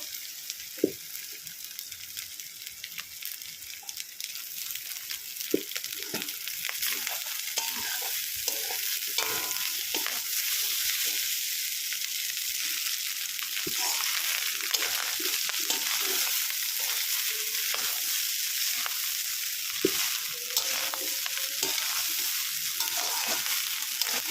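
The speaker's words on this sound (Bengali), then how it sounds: "ভালো করে নাড়িয়ে নিতে হবে।" Rice is stir-fried in a wok with a constant sizzling hiss and a busy run of scraping, tossing spatula strokes throughout, close up, with no voices.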